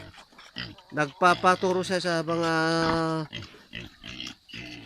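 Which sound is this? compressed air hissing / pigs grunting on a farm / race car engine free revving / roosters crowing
pigs grunting on a farm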